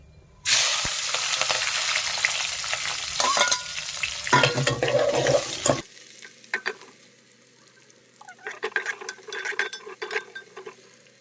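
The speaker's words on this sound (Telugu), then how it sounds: "నూనె అయితే వేడైంది ఇంట్లో మసాలా వేసుకుందాం మిరపకాయలు ఉల్లిపాయలు వేసుకుందాం" Spices, chillies and onions hit hot oil for a bagara rice dish, setting off a loud, dense sizzle with stirring clatter. The sizzle fades around the midpoint, and scattered bursts of frying and scraping follow in short spurts. No one speaks.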